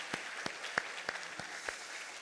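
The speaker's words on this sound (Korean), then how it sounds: "우리 자녀들 박수로 한번 축복해" Sparse, faint clapping rises from a church congregation during a Sunday service, a handful of separate distinct claps scattered over about two seconds.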